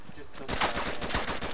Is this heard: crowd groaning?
no